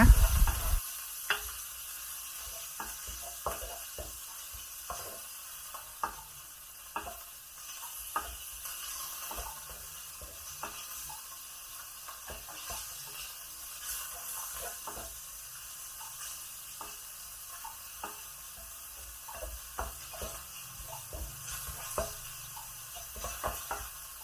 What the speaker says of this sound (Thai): เราจะผัดหมูจนสุกนะคะ